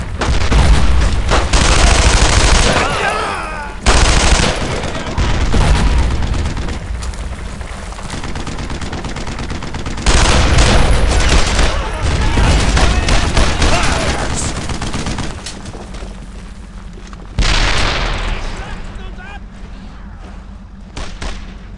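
Gunfire in the World War II shooter game Brothers in Arms: Road to Hill 30: loud, dense bursts of rifle and machine-gun fire with heavy booms, in several waves separated by brief lulls, close and continuous.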